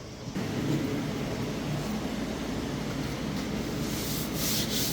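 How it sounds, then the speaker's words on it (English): Steady, close sanding of a raw aluminum panel from a 1956 Airstream Overlander travel trailer, a continuous rough rubbing hiss that runs evenly throughout without pauses or talk. "I'm going to kind of show you guys how I do my sanding."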